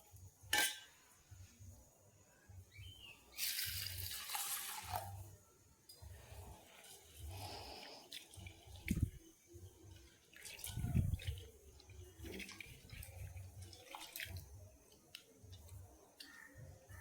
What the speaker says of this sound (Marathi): दोन ते 3 वेळा स्वच्छ पाण्याने धुवून घ्यायची आहे